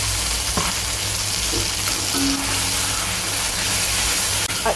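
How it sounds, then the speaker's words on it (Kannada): Onion and tomato puree frying in a pan with oil, a steady close broadband sizzle with faint stirring scrapes and no talk. "ಈಗ ನಾನು ಆನಿಯನ್ ಮತ್ತು ಟೊಮೊಟೊ ಪ್ಯೂರಿ ಹಾಕ್ಕೊಳ್ತಾ ಇದ್ದೇನೆ"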